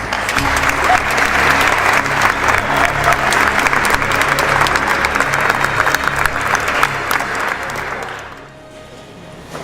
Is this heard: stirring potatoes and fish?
no